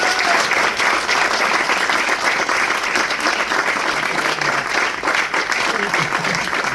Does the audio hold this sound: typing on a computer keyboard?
no